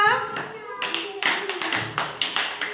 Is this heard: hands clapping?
yes